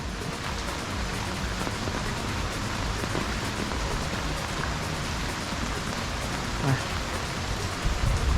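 Steady rain falls at The Haven resort in Khao Lak, Thailand, a constant hiss of drops on surfaces throughout, with faint voices in the background.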